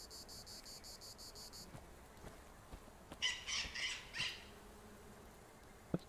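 A bird squawks like a parrot outdoors, several harsh, raspy calls clustered together at mid-range volume, after an opening stretch of steady, high insect-like trilling over a soft background hiss.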